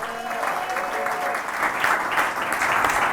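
Crowd applause at a soccer club press conference as an executive chairman and owner is introduced, sustained and fairly loud clapping from the audience with a faint voice underneath early on.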